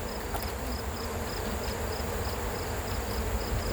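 Honey bees swarm around an open hive during frame handling, a dense continuous buzzing drone close to the microphone, steady throughout with a faint repeating high beep in the background.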